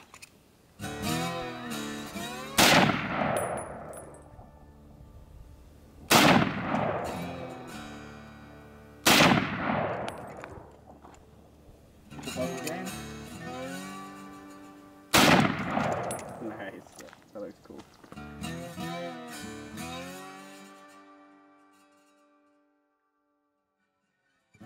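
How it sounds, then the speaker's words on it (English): Four loud M1 rifle gunshots fired at a pumpkin outdoors, spaced a few seconds apart, each sharp crack followed by a long rolling echo that fades away before the next shot. "This is the pumpkin we just shot with the M1."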